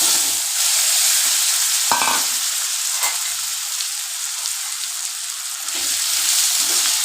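Cumin and radhuni seeds sizzle and crackle steadily in hot oil, a continuous bright frying hiss with a few sharper pops, close and fairly loud with no talking.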